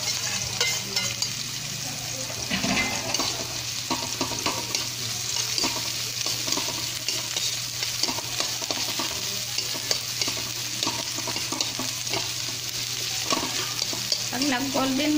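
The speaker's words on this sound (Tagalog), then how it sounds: "Lagay natin yung sibuyas. Tapos, sunod natin yung bawang." Onion and garlic sauté in a hot pan for a coastal crab-and-shrimp coconut stew, with a steady close sizzle and occasional stirring scrapes throughout, and faint talk in places.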